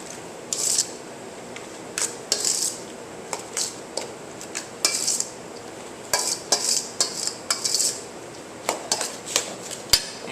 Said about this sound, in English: So make sure you mix up real good, break down that honey, because it's thick.